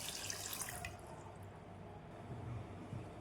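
Water runs and splashes steadily into a cooking pot with salted potatoes, a continuous close pouring sound with faint clinks, no voices.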